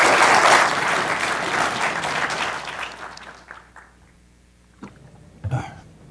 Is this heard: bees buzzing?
no